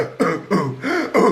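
Several harsh coughing and throat-clearing bursts, about four in quick succession, close and loud with brief gaps between them.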